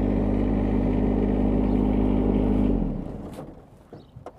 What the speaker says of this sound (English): Just showing up on my tractor here on the farm.